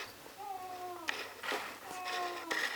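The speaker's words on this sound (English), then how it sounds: "I just want to introduce you to my cat" A pet cat meows close by in a garage, a few drawn-out tonal meows in quick succession, fairly faint against a low background hum.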